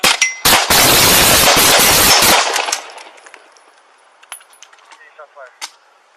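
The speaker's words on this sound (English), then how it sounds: "Shots fired." A rapid volley of gunshots rings out during a police encounter with a suspect on the street. The loud bursts come in quick succession for about two seconds, then give way to faint metallic clinks and quieter background sounds.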